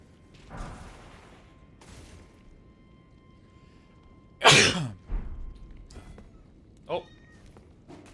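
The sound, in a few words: loud sneeze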